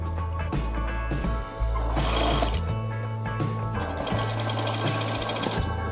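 A sewing machine stitches the side seam of a round-collared gamis dress, buzzing in loud, rapid bursts that stop briefly and start again.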